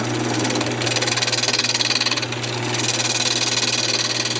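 A wood lathe spins a wooden coffee cup as the top is trued up, giving a steady, close mechanical hum with a rapid pulsing buzz and the scrape of the cutting tool running throughout without pause.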